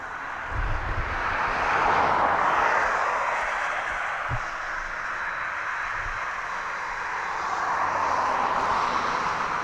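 A DHL Boeing 757 taxis at East Midlands Airport at night, its engines giving a steady, moderately distant jet whine and roar that swells slightly and holds throughout.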